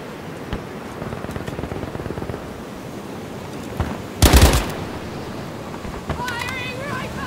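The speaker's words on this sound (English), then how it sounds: "Firing rifle!" Battlefield V rifle gunfire crackles as a rapid burst of sharp shots, with a loud close blast partway through and game voices around it.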